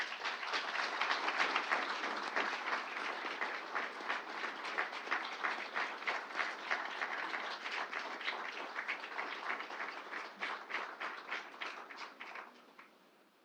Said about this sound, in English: please join me in a round of applause again for Dr. Shriver